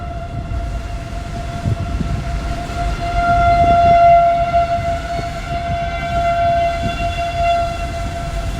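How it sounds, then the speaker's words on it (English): An outdoor civil-defense warning siren wails loudly in the distance to the east during a storm in Battle Creek, Nebraska, a sustained steady tone that swells and fades slightly over rumbling wind. "Very loud siren to my east there."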